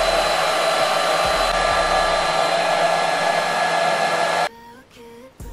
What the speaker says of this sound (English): So I'm just taking my blow dryer